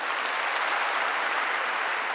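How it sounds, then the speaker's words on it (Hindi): Audience applause after a call to clap for a speaker's father at a success testimony event, a steady dense wash of clapping held for the whole stretch with no talking. "एक बार प्लीज जोरदार इनके लिए ताली हो जाए।"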